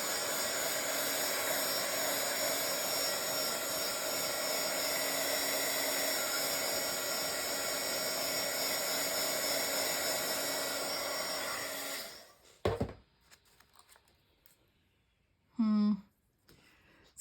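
A heat tool dries paint through a stencil on a Bible journal page, giving a steady, close whirring blow for about twelve seconds that then cuts off, followed by faint clicks and a brief voice.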